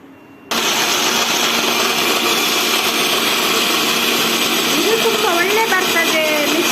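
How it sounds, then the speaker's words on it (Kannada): A kitchen mixer grinder switches on abruptly and blends spices and ingredients for a Mangalore-style basale curry, whirring in a loud, steady, high-pitched drone that holds after a brief quiet start. "ಇವಾಗ ಇದನ್ನೆಲ್ಲ ಮಿಕ್ಸಿಗೆ ಹಾಕಬೇಕು"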